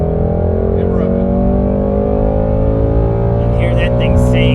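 A 2018-2021 Ford Mustang GT with the 10R80 transmission drones steadily at speed, its engine loud and close with a sustained harmonic hum from the cabin, and a voice comes in faintly near the end.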